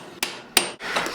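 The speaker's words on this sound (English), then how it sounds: "Here I'm using the last bit of the heat to break the welds free on the lugs." Hammer blows on hot forged iron break forge welds free on lugs, two sharp close metallic strikes about a third of a second apart, followed by a softer ringing scrape.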